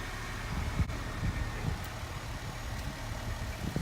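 The small four-cylinder engine of a 1993 Honda Del Sol Si with stock exhaust idles steadily with a low, even rumble, close by and with no talking.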